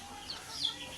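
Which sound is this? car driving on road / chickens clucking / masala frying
chickens clucking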